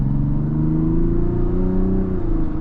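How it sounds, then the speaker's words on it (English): A 2026 Mazda CX-90 turbo engine revs steadily, its deep rumbling tone climbing slightly in pitch and then settling, loud and close with no voices. "Oh gosh, this engine is just a wonderful sound"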